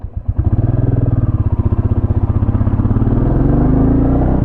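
A 2025 Royal Enfield Classic 350 single-cylinder motorcycle under way, its exhaust thumping in a steady, fast pulse close by that swells as the bike accelerates, with no talk over it.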